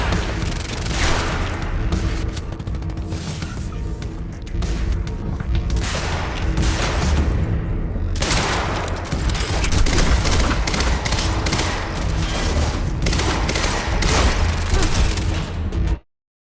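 Dense gunfire in the Quantum Break video game, continuous rapid bursts and booming shots forming a loud, sustained fusillade for about sixteen seconds before cutting off abruptly.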